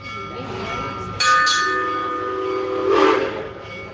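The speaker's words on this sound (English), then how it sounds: "The train is about to leave." Amusement park train at Busch Gardens Tampa pulling out of its station, with a sharp whistle blast and rolling rail noise up close, followed by a second rising whistle, while a voice speaks over it.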